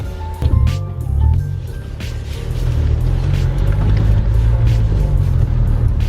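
An Acura TSX with a hybrid racing short shifter drives off on a test drive, its engine a steady low rumble with road noise filling the cabin, loud and continuous throughout.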